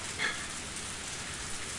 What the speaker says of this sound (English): there was thunder in the distance and a heavy rain started pouring down